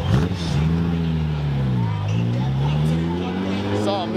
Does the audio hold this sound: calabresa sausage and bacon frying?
no